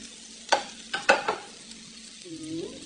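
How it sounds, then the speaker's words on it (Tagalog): Bacon dropped into a hot pan while cooking shrimp in coconut milk, a few sharp scraping stirs over a soft steady sizzle, close and clear with no talking. "Siyempre, lagyan na natin ang bacon."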